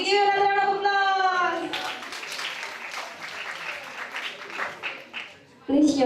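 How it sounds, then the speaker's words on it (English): Applause from an audience at an international public speaking workshop, a steady mass of clapping that swells and fades unevenly after a voice speaks at the start, with another voice breaking in at the end. "give another round of applause"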